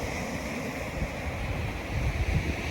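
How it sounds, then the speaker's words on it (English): Ocean waves crash and wash on Newport beach, a steady, broad roar of surf with gentle swells in loudness and no voices. "Just taking in the beauty of these waves crashing."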